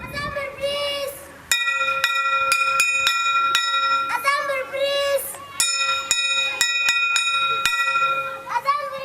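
School bell rung for morning assembly, sharp bright metallic strikes in rapid bursts separated by short pauses, loud and close, with children's voices between the rings.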